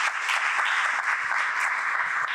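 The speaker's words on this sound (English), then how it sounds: "Let's give a round of applause for this." Sustained audience applause fills a conference session hall after a presentation, a dense, even wash of clapping that holds at a steady level from start to finish with no talk over it.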